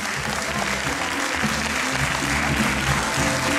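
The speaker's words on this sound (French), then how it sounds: "On les applaudit très fort" An audience at the opening of an Italian cultural festival in a cultural centre hall applauds loudly and continuously, a dense, even wash of clapping filling the room.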